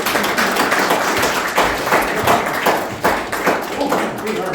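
A seminar audience of parents claps for a friend named Jer, a steady wash of many hands close and loud, with voices mixed in.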